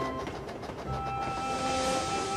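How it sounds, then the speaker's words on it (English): A steam engine train puffs steadily through snowy countryside, a continuous, fairly loud rumbling chug with faint tonal whistle-like overtones and no talking. "Gordon and Percy puffed through the snowy countryside"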